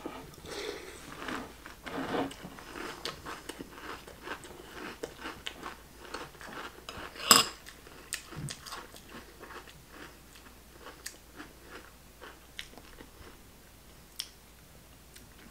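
Someone chews Magic Spoon grain-free frosted keto cereal close up, making a series of irregular crunchy bites and soft chewing clicks, quiet and alone.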